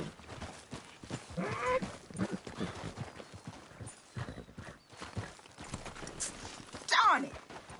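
Horse hooves clip-clop in Red Dead Redemption 2, mixed with game sounds and talk, with a brief loud burst near the end that could be a whinny as the horse acts up.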